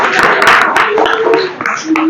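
Schoolchildren applaud a quiz contestant at a Zilla Parishad primary school, a dense burst of many small hands clapping close by for about two seconds, with children's voices mixed in.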